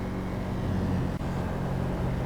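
A steady, droning V8 exhaust note from the HSW Firebolt ASP truck in GTA Online, somewhat high-pitched, holds at constant loudness with no pauses.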